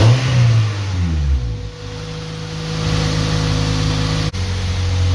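A Honda VTEC car engine with a freshly repaired exhaust header revs hard and loud, climbing and falling in pitch before settling into a raspy, steady idle-like drone with a brief dropout near the end.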